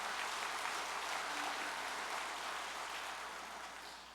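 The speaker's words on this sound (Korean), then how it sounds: "우리 원로 목회자님과 식구님들께 감사의 박수를 부탁드리겠습니다." Steady applause of thanks from a church congregation honoring elder pastors and members at a Family Federation ceremony, a broad even clatter of many hands that holds throughout and slowly fades near the end.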